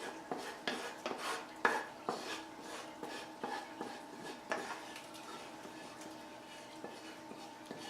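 Sautéed onions and mushrooms scraped from a pan into a crock pot for vegan split pea soup, with a utensil clinking and scraping against metal in quick, uneven strokes, close and fairly quiet.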